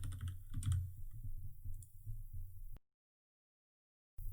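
Close, quiet typing on a computer keyboard: a quick run of soft key clicks for a short word that stops abruptly, followed by silence.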